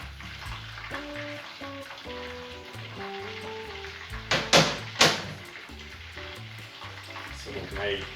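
Battered fish frying in hot oil gives a steady low sizzle under musical backing, with a couple of sharper clattering bursts partway through.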